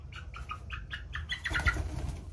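A small farm hen, her nails freshly painted, gives a short run of soft, repeated clucks and coos close by, rising into a slightly busier chatter near the end.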